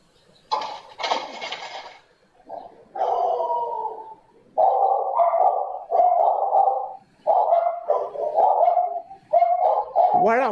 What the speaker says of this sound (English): Didn't it sound like the dogs are barking in a different language?